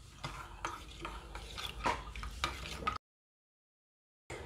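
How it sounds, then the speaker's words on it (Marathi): A spoon stirs tamarind chutney with chili powder, salt and jaggery in a pot, giving repeated soft scraping strokes in a steady rhythm, close and quiet, before a sudden break into silence. "गूळ टाकल्यानंतर आता हे मिश्रण आपण सर्व हलवून घेणार आहोत."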